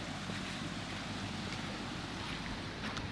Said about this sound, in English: A little bit of a waterfall here.